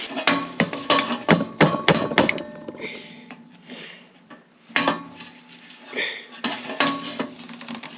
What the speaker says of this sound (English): I'm gonna see if I can get a screwdriver in here and try to get these loose.